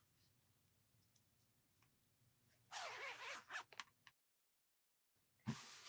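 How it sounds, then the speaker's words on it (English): A zipper is pulled closed on a sewn fabric pillow, giving a couple of brisk raspy zips close by, then a pause of silence before another short rasp. "Now we are going to zip it up and make sure everything works."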